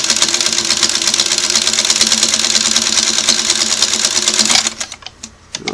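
A Singer 301A sewing machine stitching in reverse runs in a fast, steady mechanical patter for over four seconds, then stops, leaving a few faint clicks and handling noises.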